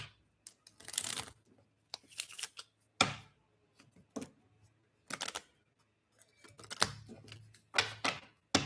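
Tarot cards being shuffled in bursts, with crisp riffling flutters and sharp taps separated by quiet gaps, close and fairly loud.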